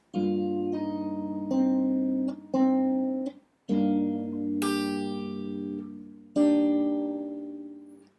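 Fingerstyle guitar picks a part of a song, with open strings and small chord groups plucked together, sustained ringing notes spaced out slowly, close and clean with no talk.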